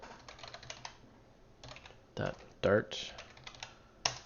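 Computer keyboard typing during a Flutter programming course, quiet scattered keystrokes with a few louder clacks and a brief spoken word mixed in.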